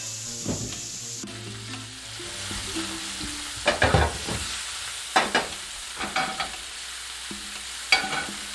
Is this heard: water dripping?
no